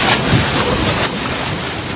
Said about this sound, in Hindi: नाव ने रफ्तार पकड़ ली है, पानी को उछालते हुए बहुत तेज रफ्तार से नदी की धार के बीच में चलती चली जा रही है नाव